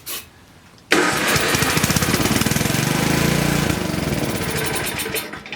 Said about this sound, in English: it starts but doesn't stay running